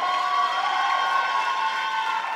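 A crowd at the opening ceremony of a digital and imaging art festival applauds and cheers for the film category with a dense, steady wash of clapping and shouts that lasts throughout.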